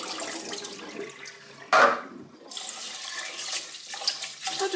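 Water splashing and running as rice is rinsed in a kitchen before going into stuffed pepper and cabbage rolls, a steady wash with a louder splash burst midway.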